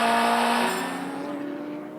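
An Audi endurance race car braking into turn 1 at the 2015 6 Hours of Bahrain, its loud, close engine note holding steady tones before dropping and fading as the car slows.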